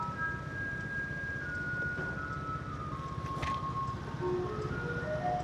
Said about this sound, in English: That's the sound of a garbage truck. The garbage trucks here